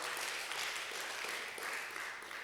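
A church congregation applauds during a Sunday service, a brief burst of scattered hand clapping heard at a distance and fairly faint.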